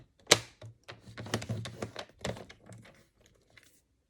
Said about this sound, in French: nous allons venir faire une marque de pli au centre à 4 centimètres du bord gauche